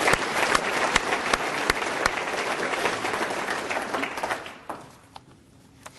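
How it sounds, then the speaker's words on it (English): A hall audience at a State of the City address applauds a city engineer with dense, lively clapping that holds for about four seconds, then thins to scattered last claps before fading out. "let's give Sean a round of applause for everything he does."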